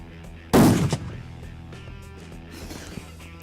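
A single loud rifle shot cracks out sharply near the start while a riflescope is being zeroed at a 100-yard range, followed by a brief decaying echo and quiet ambient noise.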